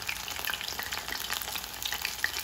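Mushroom snack pieces frying in oil in a kadhai, a steady close sizzle and crackle with scattered pops running throughout, no voices.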